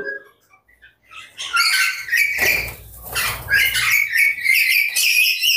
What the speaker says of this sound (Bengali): তারপর এইখানে আছে অনেকগুলা কনুর পাখি। এই খাঁচায় শুধু কনুর আর কনুর।